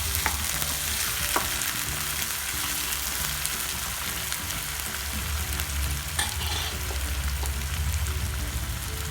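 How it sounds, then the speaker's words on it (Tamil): Chopped tomatoes and onions sauté in a pan for a Tamil elephant foot yam kulambu, giving a constant, dense sizzle close up with occasional stirring scrapes and no talking. "ஒரு 2 நிமிஷம் தக்காளி நல்லா வதங்கட்டும்"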